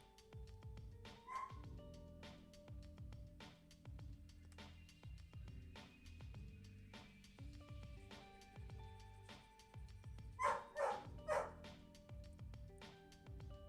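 A dog barks faintly in the distance, a few scattered yips and then a quick cluster of barks, over a soft rhythmic low background noise.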